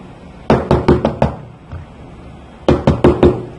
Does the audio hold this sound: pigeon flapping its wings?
no